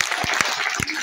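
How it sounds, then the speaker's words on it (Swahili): Church congregation clapping for Jesus during a worship service, rhythmic crowd applause with a few sharp beats standing out, voices mixed in over the clapping. "Basi pigia Yesu makofi"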